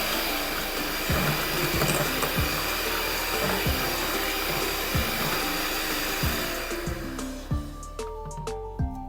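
A handheld electric mixer beats three eggs for brownie batter, its steady whine broken by regular thumps against the bowl, up close, before the motor winds down and stops near the end.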